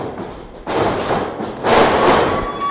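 A wrestler's back senton crashes onto the ring mat at a Northern Impact Wrestling match, a loud broad thud followed by a second heavy impact a second later, over steady crowd and arena noise.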